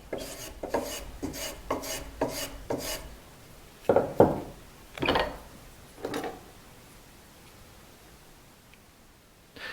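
Small wooden bracket for a Spanish guitar, cut from neck or brace offcut wood, being filed or rasped by hand: a quick run of rhythmic rasping strokes, then a few slower, heavier scrapes with pauses, close and clear with no talking.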